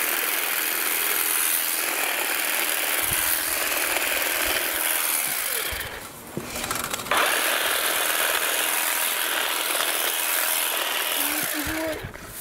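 A Makita 18V cordless lawn grass trimmer runs steadily with a high, whirring buzz, close and continuous, dipping briefly midway before resuming, with occasional faint rustles.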